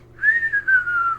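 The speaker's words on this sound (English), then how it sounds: "you have a 50 millimeter artillery shell whistling explosion" A single descending whistle from a Remco Sound FX Machine toy glides steadily downward for about a second, like a falling artillery shell, loud and clean without any explosion.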